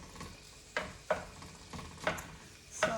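Pieces of beef steak for lomo saltado fry in a pan with a low steady sizzle, broken by a few sharp utensil scrapes and taps, close up with no talking.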